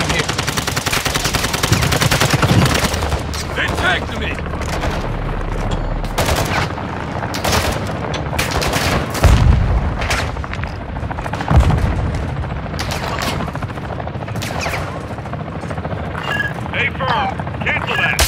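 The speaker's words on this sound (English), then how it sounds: "The enemy attack helo is moving in your direction." Call of Duty Warzone on Ashika Island: bursts of automatic gunfire and booms over the drone of an enemy attack helicopter, loud and dense throughout, with in-game radio voice lines mixed in.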